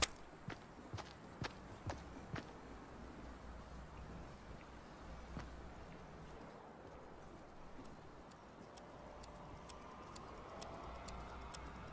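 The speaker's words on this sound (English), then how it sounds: "Footstep." Footsteps in Fortnite Battle Royale, faint irregular ticking steps over a steady ambient game hiss, sparse and fairly distant.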